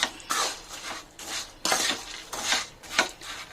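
Boondi being mixed with fried cashews and raisins in a pan, a spoon scraping and turning in several broad sweeping strokes, close and moderately loud with no voices.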